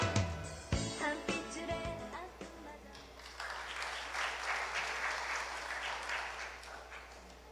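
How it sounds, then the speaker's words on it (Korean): After a few musical notes fade out, a crowd at a political rally bursts into steady applause, a broad wash of clapping that continues to the end. "힘찬 박수 부탁드립니다"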